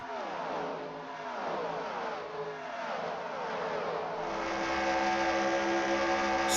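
Stock cars race at Texas Motor Speedway, a loud continuous engine roar with several cars passing and revving, their pitch sweeping up and down in overlapping waves, building slightly toward the end.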